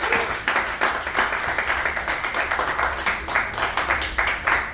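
Audience at a live comedy night clapping in a steady burst of applause, many hands close together with no talk over it.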